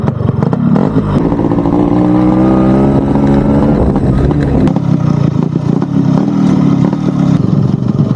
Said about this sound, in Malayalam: ഞാനൊന്ന് വലിച്ചെടുത്ത് കാണിച്ചു തരാം ഈ സാധനത്തിൻ്റെ ഒരു ആക്സിലറേഷൻ എങ്ങനെയാണ് പോകുന്നതെന്ന്